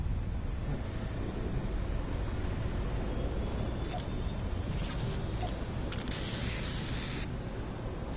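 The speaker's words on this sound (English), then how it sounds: "Spray paint." Spray paint hisses steadily from an in-game can in Fortnite, a continuous, broad, airy spray that runs unbroken for about eight seconds at an even level.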